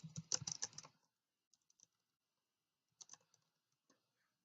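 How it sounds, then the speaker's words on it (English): Keys clatter on a computer keyboard as an SMS text message is typed, a quick dense burst of close, crisp clicks, a pause, then a few scattered taps. "and then just type out the message."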